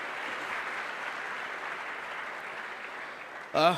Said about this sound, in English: A big loud of applause for Nandini, please.